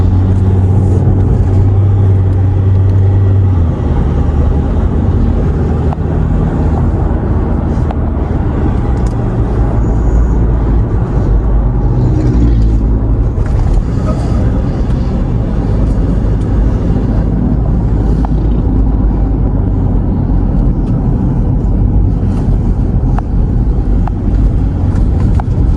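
A Ford Ranger Sport pickup cruises with its transmission in manual mode, a loud, continuous low engine and road rumble from inside the cab that holds steady for the whole stretch with only slight changes in revs.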